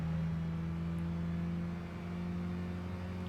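Race cars in Gran Turismo 5, including a Mazda Atenza and a Mitsubishi Lancer, produce a steady, droning engine whine that dips briefly and then holds, moderately loud and without talk.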